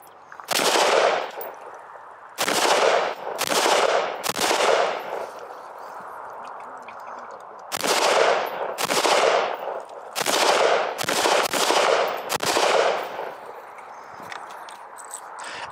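Gunfire from a VKTR piston-driven AR rifle, a run of loud, close shots fired in quick bursts and singles with short pauses between groups, each report sharp with a heavy thud and ringing tail.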